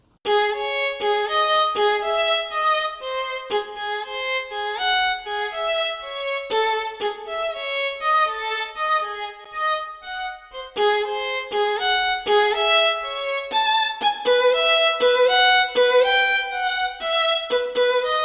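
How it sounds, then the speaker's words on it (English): A solo violin from the Chris Hein Strings Compact Edition sample library plays a flowing melody of distinct bowed notes, bright and clear, phrase after phrase with brief gaps, alone and up close. "The French violin sounds like this."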